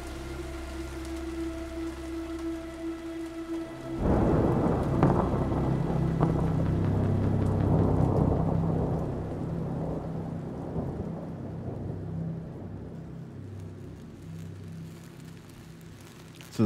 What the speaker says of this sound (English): rain pounding on the cracked windshield of my hover. I tried to call for help, but my radio couldn't catch a signal through the storm